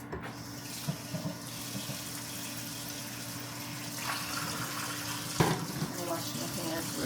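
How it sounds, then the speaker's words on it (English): Running tap water splashes steadily as hands are washed under a kitchen faucet, a constant close hiss with a few brief clatters, and faint speech in the background. "Wash my hands real good, y'all."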